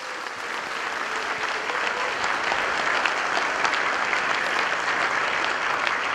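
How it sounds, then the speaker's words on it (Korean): Sustained applause from an audience at a commemorative ceremony for the anniversary of an inter-Korean summit declaration, dense and steady throughout with no break. "모두에게 힘찬 격려와 감사의 박수를 한번 쳐주실까요?"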